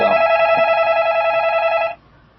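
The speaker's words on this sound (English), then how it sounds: "Every time I try to make a broadcast, the phone starts ringing" Telephone ringing indoors, one loud, steady electronic ring tone held for about two seconds and then cut off.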